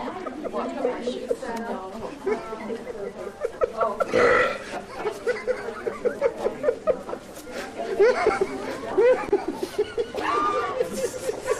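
A man burps loudly once in a studio setting, set among ongoing chatter and chuckling from several people.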